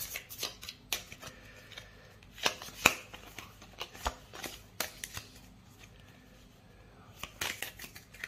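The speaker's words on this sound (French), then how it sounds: "Et maintenant, on va mélanger les cartes de la Némésis." Cards from an Aeon's End nemesis deck being shuffled by hand at a board game table: a close, quiet string of riffling flicks and snaps with uneven rhythm, and a slightly louder flurry toward the end.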